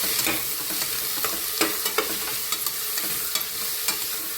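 Peas and potatoes fry in a pan over low heat, a steady close sizzle broken by repeated scraping clicks of stirring.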